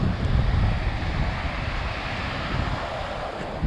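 Steady wind roars across the microphone on a beach with a broad rushing noise, likely mixed with surf, continuous and loud throughout with no voices.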